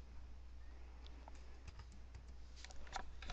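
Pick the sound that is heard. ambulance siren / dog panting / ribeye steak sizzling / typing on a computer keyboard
typing on a computer keyboard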